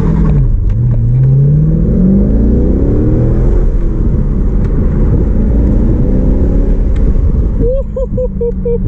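A Corvette engine fitted with a Hurst/Core short shifter drones loudly and steadily during a test drive, rising and falling in pitch as it accelerates and shifts, with a brief rhythmic pulsing near the end.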